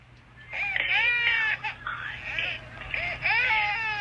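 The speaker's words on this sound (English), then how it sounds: "she got the baby noise in the background" A baby cries and fusses in a series of high, wavering wails with brief pauses, set against a low steady hum.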